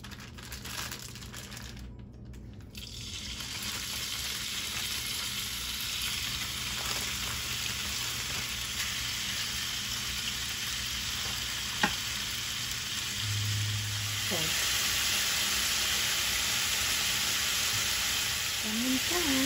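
Chicken breast adobo frying in a pan, with a steady, loud sizzle running throughout, near and continuous, broken by occasional stirring and crinkling noises and a brief clatter partway through.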